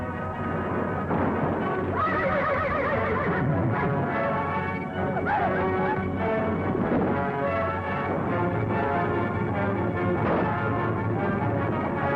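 Horses whinny amid a dense, noisy scene with crashing and hoofbeats in a 1934 Western film, the neighs rising out of a constant roar.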